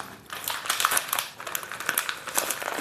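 A tightly sealed Mangaldeep agarbatti incense package is torn open by hand, giving close, bursty crinkling and rustling of the wrapper in uneven pulses for a few seconds.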